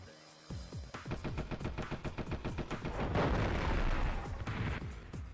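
Turret gunfire in the Die Hard Trilogy 2 video game, with rapid repeated shots in a dense, steady rhythm layered with booming impacts that build louder toward the middle.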